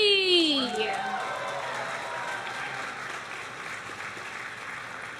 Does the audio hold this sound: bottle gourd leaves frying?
no